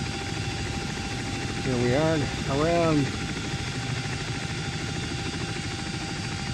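A CH-47D Chinook helicopter in the X-Plane 11 flight simulator drones with a steady, dense rotor and engine hum throughout, while someone speaks briefly over it.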